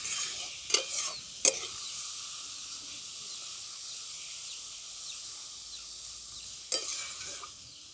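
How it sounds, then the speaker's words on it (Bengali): Papaya stirred in a pan as it cooks down to dry out its water, making a steady low sizzling hiss with a few sharp scraping knocks of the spatula near the start and end, close and fairly quiet. "পেঁপেটা দিয়ে আমি একটু নাড়াচাড়া করে নেবো।"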